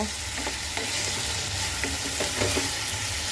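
Spiced country chicken sautés over a low flame, a dense, close sizzle with short scraping strokes and light clacks of a spatula stirring through the pan.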